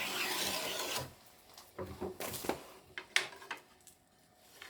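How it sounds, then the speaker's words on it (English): Hand tool rasping or planing along the bottom edges of a wooden drop bar for a sliding drawing board, a steady scraping rub at first, then a series of shorter, separate strokes and knocks, close and alone. "I'll start by beveling the bottom edges of the drop bar."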